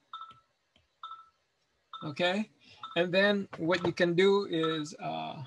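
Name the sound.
mobile phone ringing or beeping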